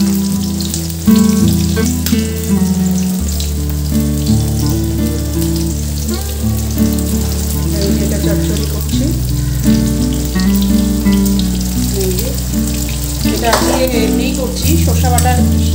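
Vegetable chorchori sizzles steadily in a pan while being stirred, with continuous frying crackle and occasional scraping strokes, close and loud throughout with no talking.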